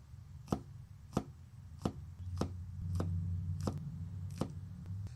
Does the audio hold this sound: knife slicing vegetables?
yes